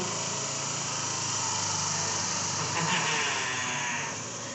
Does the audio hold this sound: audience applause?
no